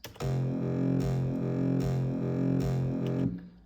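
A distorted, tonal 2012-style hardstyle kick pitched down to F repeats in a steady four-on-the-floor pattern, each hit punchy with a droning pitched tail, loud and upfront.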